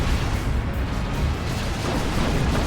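Heavy melta blast striking a vehicle's rear armor in Dawn of War 2, a continuous dense rumble of battle explosions and fire with no talk over it.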